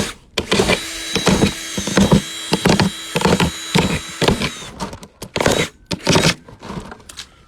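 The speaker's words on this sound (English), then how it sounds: "Drill in the lowest points of this guy" Short bursts of a small power drill whirring and biting into material, drilling holes in a garden cloche, repeated in quick on-off pulses with brief pauses between them.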